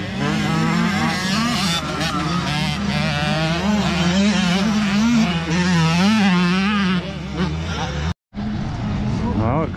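Racing motorcycles, including big bikes, roaring around a track, engines rising and falling in pitch as they rev and pass, loud and close, with a commentator talking over them.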